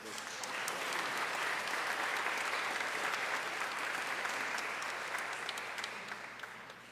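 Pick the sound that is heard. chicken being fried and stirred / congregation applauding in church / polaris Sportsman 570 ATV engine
congregation applauding in church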